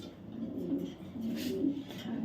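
Racer pigeons cooing softly in a low, throaty rolling murmur, close by and continuous over quiet surroundings.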